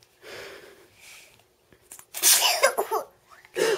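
A child's sharp sneeze bursts out at close range near the end, after softer breathy sounds and brief rustling in a quiet room.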